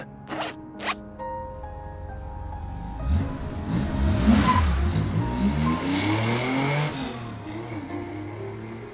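A car in the Love and Deepspace video game starts up and drives off, with a pair of quick clicks followed by a rising engine rev and acceleration that swells and then holds.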